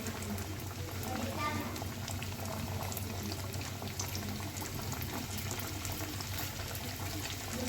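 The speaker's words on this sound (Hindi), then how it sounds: "इससे पहले मैंने इसमें पकोड़े फ्राई किए थे और वही तेल है तो इसमें हम फ्राई कर रहे हैं" A chicken and potato snack coated in black sesame bubbles steadily in reused frying oil, a constant close boiling crackle with a voice speaking over it.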